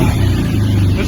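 A motorcycle engine idles steadily up close, a low continuous rumble holding even for about a second just before it is switched off, with no talk over it.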